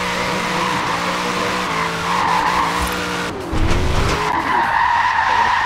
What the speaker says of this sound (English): Drifting down the grass strip.